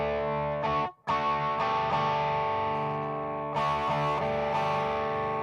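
Electric guitar fitted with a DiMarzio Chopper T pickup, played through a big stereo effects pedal: sustained, shimmering chords ring loud and alone, with a brief cut near the start and a fresh strum midway.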